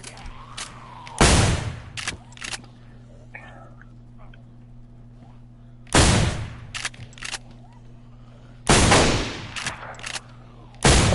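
Shotgun blasts fired at zombies in a video game, three loud separate booms spaced several seconds apart, with lighter clicks and faint sounds between them.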